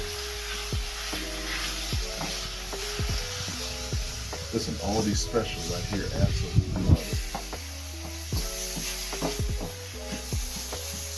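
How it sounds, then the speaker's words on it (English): Organic ground beef sizzles and crackles steadily in a hot skillet, with a spatula occasionally scraping and stirring while someone talks over it. "Now we're going to go ahead and fry the ground beef up."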